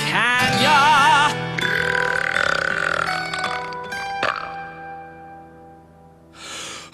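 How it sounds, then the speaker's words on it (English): A long, loud, hearty belch rumbles through several voiced stretches, trailing off, with a short breathy sound near the end. "If you can't find a hearty belch here, where can ya?"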